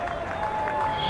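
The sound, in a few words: Bronx cheer from the baseball crowd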